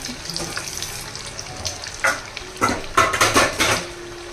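Corn vadas frying in a pan of oil, a close bubbling sizzle under scattered metallic clinks and scrapes of a spoon or slotted ladle, busier toward the end.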